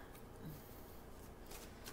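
A deck of playing cards is shuffled nearby, a faint, continuous riffling and rustling at low volume with no talking.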